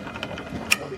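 A ratchet works loose the downpipe bolts on a BMW 1M, giving a few brief, close metallic clicks with a sharper tick near the end, over a low background murmur.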